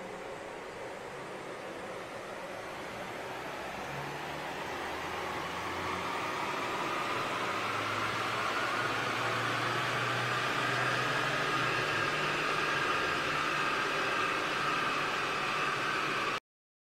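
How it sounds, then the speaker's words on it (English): Ford Transit 2.2 TDCi 114 kW van on a wheel dyno, a steady broadband roar of engine and rollers that slowly builds in loudness and pitch through the run, with no talk. "This is the dyno before run."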